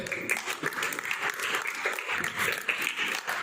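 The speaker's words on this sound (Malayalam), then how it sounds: "ഒരു ബിഗ് ക്ലാപ്പ് അല്ലേ?" Audience clapping for children who answered well at a Bible quiz, a steady broadband patter of many hands lasting throughout, fairly close and even, with no talk over it.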